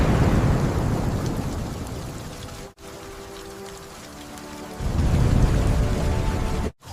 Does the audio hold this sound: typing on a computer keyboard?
no